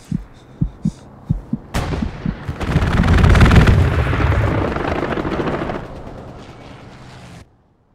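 Gunfire and artillery in Hell Let Loose, a World War II shooter: a few evenly spaced heavy thumps, then a roaring burst of rapid fire and explosions swelling loudly before cutting off abruptly.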